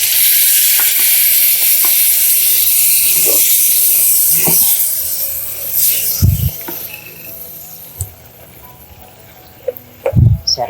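Beetroot is tipped into hot oil that already holds dried chillies for a beetroot curry, setting off a loud, hissing sizzle that slowly fades, followed by a few dull knocks from the pan.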